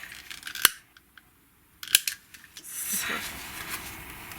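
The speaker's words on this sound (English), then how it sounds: "My little scissors. And cut this as well." Small scissors snip through ribbon in two sharp, separate cuts, with a quieter rustle and brief handling noises in between during card making.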